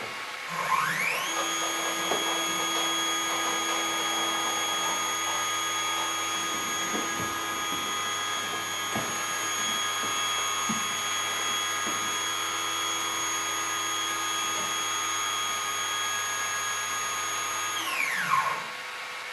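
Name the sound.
DIY CNC longarm quilting machine stitching a pattern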